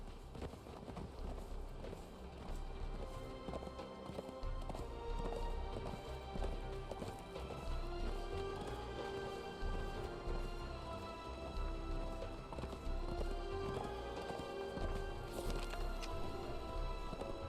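Horse hooves clip-clop steadily during a ride in the video game Conan Exiles, a continuous running gait under game music and ambience, with no pauses.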